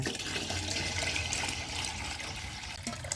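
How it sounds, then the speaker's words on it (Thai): Drinking water pours steadily into a container for grape wine fermented with natural yeast, a continuous splashing rush close by with no talking. "ใช้น้ำดื่มเทลงไปเลยค่ะ"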